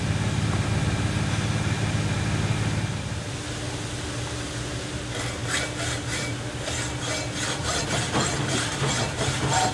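A metal bolt clamped tightly in a vise is cut through, giving a steady rasping, sawing grind near and loud that keeps on without a break, turning sharper and more rhythmic with distinct strokes toward the end.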